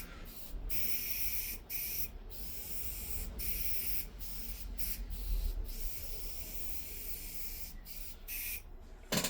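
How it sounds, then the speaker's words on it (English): An airbrush sprays candy paint onto a Sith Blood Trooper figure: a steady, close hiss in repeated bursts broken by short pauses, with no voices. "Love candy paint, it's wonderful to work with, very easy to shoot through the airbrush."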